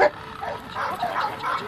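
American Bulldog puppies at a dog show yip and whimper in short, fairly faint bursts, with a louder bark at the start.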